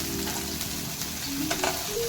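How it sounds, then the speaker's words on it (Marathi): Prawns frying in hot oil give a loud, dense, continuous sizzle, close up, with a few stirring clinks near the end and no speech. "तर आपली कोलंबी फ्राय झाली आहे तेलामध्ये"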